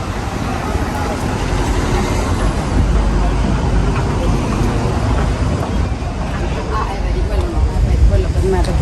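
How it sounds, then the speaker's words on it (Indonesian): Dense, steady traffic on narrow Rome streets with many motorbikes, a continuous loud roar of engines and road noise close by, heard without a break throughout. "Di sini Roma agak macet jalannya, dan terus banyak motor juga karena jalan sempit sih"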